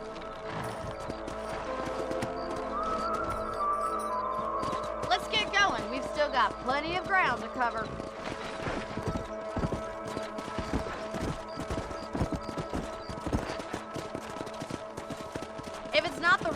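Rhythmic clip-clop of horse hooves trotting steadily in Red Dead Redemption, with someone talking over them and occasional sharp bangs in the background.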